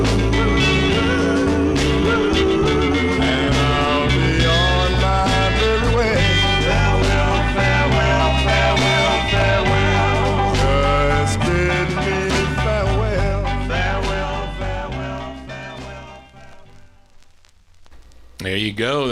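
A 1961 doo-wop 45 record plays loud and full with group vocal harmony over a band, fading toward the end and cutting off before a brief return.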